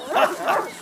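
A dog in the video game A Plague Tale: Innocence gives two short barks or yips about a third of a second apart, each clear and fairly close.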